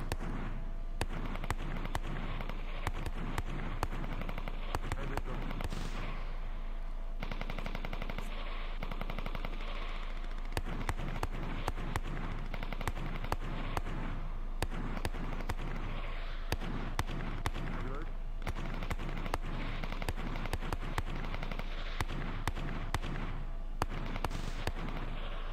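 Sustained automatic gunfire from a video game training match, coming from the upper right: dense rapid bursts and single shots crackle almost continuously, fairly close and loud, with only brief lulls.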